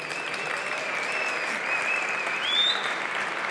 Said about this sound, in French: Je vous demande un tonnerre d'applaudissements.